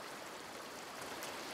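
A river flowing in A Plague Tale: Requiem, a soft, steady broadband rush of running water, faint and even, with no voices.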